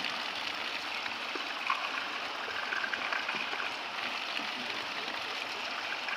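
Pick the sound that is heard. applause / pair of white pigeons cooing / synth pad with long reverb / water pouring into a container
water pouring into a container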